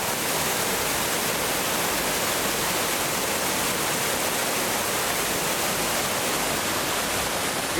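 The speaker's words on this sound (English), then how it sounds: "Waterfall." A waterfall in the Whiteshell area pours in a steady, dense roar of rushing water, loud and unbroken from start to finish with no voices.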